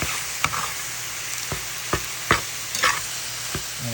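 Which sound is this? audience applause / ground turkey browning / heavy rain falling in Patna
ground turkey browning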